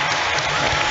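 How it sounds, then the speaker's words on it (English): In a stadium at a Super League rugby league match, the crowd applauds a try with a dense, steady burst of clapping that holds at full loudness for a moment. "The crowd here definitely happy with what they're seeing on screen"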